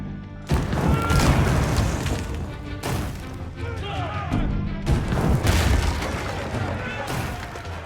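A wooden palisade being smashed apart by spearmen in the Age of Empires IV video game, with repeated booming crashes and battle clatter in bursts, while someone narrates over it.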